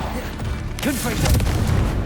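Confringo blasting spell explosion in the video game Hogwarts Legacy, a booming blast that swells in after a moment and rumbles briefly, with a voice talking underneath.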